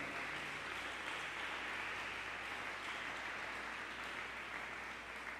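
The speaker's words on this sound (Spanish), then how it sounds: "Dale un aplauso al Señor." Church congregation applauding during a sermon, a continuous, even wash of many hands clapping, fairly distant and faint, with a low steady hum underneath.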